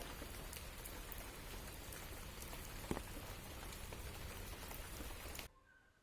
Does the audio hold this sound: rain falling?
yes